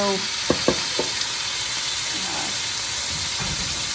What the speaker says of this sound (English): The water is starting to boil